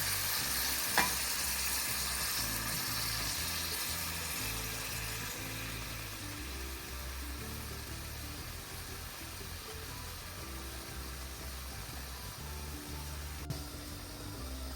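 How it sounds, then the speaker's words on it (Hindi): Tomatoes set one by one into a hot karahi of Peshawari charsi chicken with a little water added: a steady, close, hissing sizzle throughout, with a couple of faint knocks and no voices. "ये जो टमाटर है ना, हमने इनको ऐसे रख देना है सबको अंदर"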